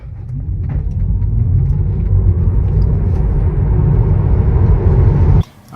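A Tesla Model 3 electric car accelerates hard, a loud low road rumble and tyre roar with a faint rising motor whine that builds steadily, then cuts off sharply near the end.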